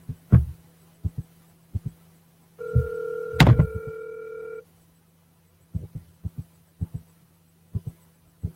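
An outgoing phone call rings once with a steady two-tone ring lasting about two seconds, set among a scatter of short knocks and handling thumps before and after.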